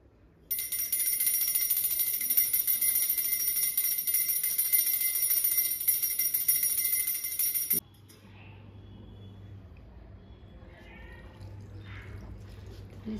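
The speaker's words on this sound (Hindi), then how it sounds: "घंटी और बजा दी।" A hand bell rings continuously in a sustained, shimmering metallic peal for several seconds during a Hindu home prayer, then stops abruptly, leaving quieter room noise.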